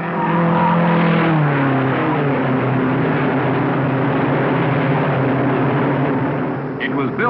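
Race cars roar around the track at the 1953 Indianapolis race, with rising and falling engine whines and a continuous loud blur of motors under a narrator's voice.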